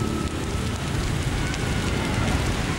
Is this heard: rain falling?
yes